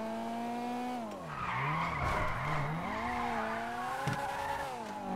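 Video-game police car drifting around a corner, tires squealing loudly over a steady, wavering engine drone for several seconds in a role-play chase.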